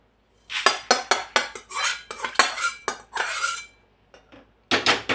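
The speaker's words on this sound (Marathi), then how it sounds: "हा एका भांड्यामध्ये आपण काढून घेणार आहोत।" Metal spoon scraping and clinking against a pan as roasted semolina-coconut karanji filling is scooped out into a vessel, a quick run of sharp, close scrapes and taps with brief pauses, no talking.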